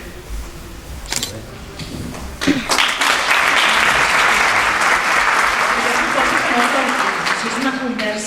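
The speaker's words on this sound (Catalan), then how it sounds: "Si és una conversa, no cal aplaudir" Debate audience breaks into applause, beginning with a few scattered claps and then swelling into sustained, dense clapping that holds for several seconds before easing slightly, with voices murmuring underneath.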